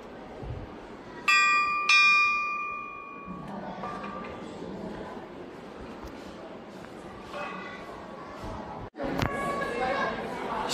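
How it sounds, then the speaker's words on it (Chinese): An old bell once struck to signal the start of class, heard at a historic university site in Kunming: two bright ringing strikes with a lingering tone, then people talking and moving about, and another strike near the end. "这个应该就是当时敲钟的上课的铃声。"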